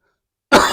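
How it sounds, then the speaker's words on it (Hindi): A man gives a single sharp, loud cough close up, starting abruptly after a moment of silence. "जैसे अभी मैं खांस के बता रहा हूँ"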